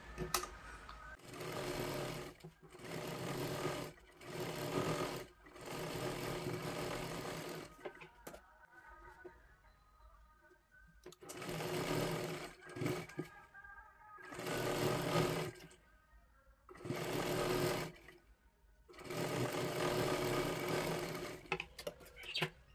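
Sewing machine stitches a katori blouse in loud, steady bursts of a few seconds each, separated by short pauses, running close by while someone talks quietly between runs.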